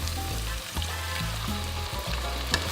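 Tomato sautés with white and red onions in a pan for pork menudo, a loud, close sizzle broken by repeated thuds and scraping stirs, with no voices.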